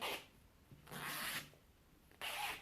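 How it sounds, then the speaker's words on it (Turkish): Zipper on a laundry mesh bag being pulled open in short strokes, three quick raspy zips separated by brief pauses, close and clear with no talking. "Şuradaki fermuara bakayım. İyi açılıyor arkadaşlar."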